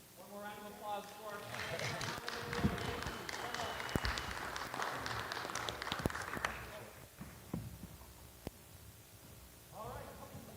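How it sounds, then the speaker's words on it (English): A conference audience gives a round of applause, a dense patter of many hands lasting several seconds at moderate distance, thinning into scattered claps, with a voice speaking over it near the start and again at the end. "One more round of applause for"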